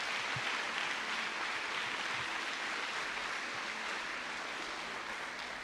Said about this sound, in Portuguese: Dê um aplauso ao Senhor, Ele está aqui.